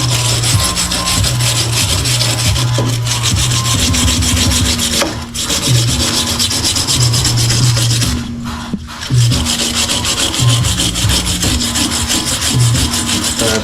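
Metal-on-metal scraping and rubbing as the wheel bearing hub surface of a Nissan 350z is cleaned behind the backing plate, loud, close strokes repeating in a steady rhythm with a few short pauses.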